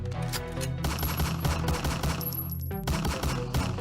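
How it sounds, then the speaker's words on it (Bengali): Gunfire sound effect during a police car chase, rapid continuous bursts of shots like a machine gun, loud and dense throughout, layered over a heavy engine-like rumble. "এ শালা তো গুলি করিচ্ছে"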